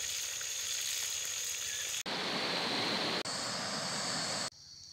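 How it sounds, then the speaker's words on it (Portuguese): Fish fries in a pan at a riverside camp near the headwaters of the Urucuia River, giving a steady, loud, broadband sizzle that cuts briefly twice and then drops quieter near the end, with no talking. "Fritando um peixinho aqui para"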